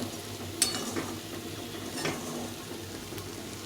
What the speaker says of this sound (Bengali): এভাবে কুমড়ো করলে একটু ভাজা ভাজা করতে হবে